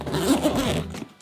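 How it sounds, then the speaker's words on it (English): A zipper on a camera bag is pulled open in one quick continuous rasp, close and clear, ending abruptly. "I love zips."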